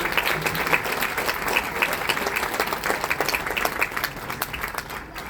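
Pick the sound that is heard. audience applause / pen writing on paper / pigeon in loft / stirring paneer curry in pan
audience applause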